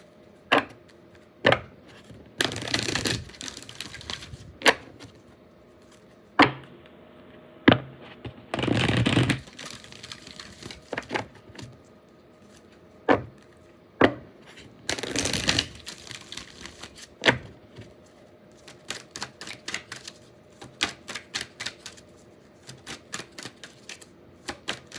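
Oracle cards being shuffled in repeated dry, papery riffling bursts, crisp and close, separated by sharp single slaps and taps as the deck is squared between shuffles.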